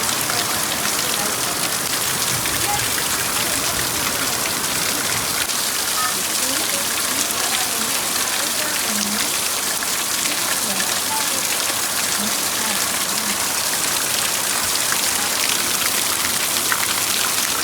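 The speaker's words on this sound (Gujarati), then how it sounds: "આ છે ને જો વરસાદ આવી ગયો છે" Heavy monsoon rain pours steadily onto surfaces outdoors near a hillside, a dense unbroken hiss of drops that stays loud throughout, with faint voices underneath at times.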